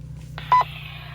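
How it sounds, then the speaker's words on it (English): A single short electronic beep from a radio repeater, heard on a Midland MXT275 radio, a quick tonal blip over a low steady hum, then quiet radio hiss. "that beep that you heard was actually the repeater itself"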